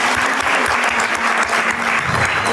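Loud, steady clapping from a gathered crowd cheering the winners of a housing lottery draw, dense and continuous across the moment with a faint voice underneath.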